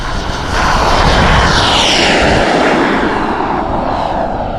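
Engine of a Starfire RC model airplane at takeoff, a loud, continuous high-revving roar close by that holds steady, with the pitch shifting slightly as the plane speeds up.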